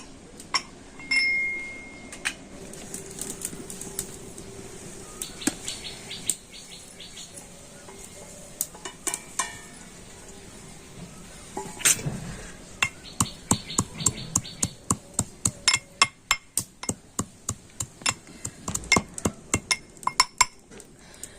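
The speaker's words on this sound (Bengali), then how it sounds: "এদিকে যে মশলাটা আমি ভেজে রাখলাম তো সেই মশলাটা আমি একটু খামন দিস্তিতে গুঁড়ো করে নেবো" Fried whole spices are pounded in a mortar and pestle. Scattered clinks and knocks at first give way to a steady run of sharp, ringing strikes in the second half, close by and with no talking.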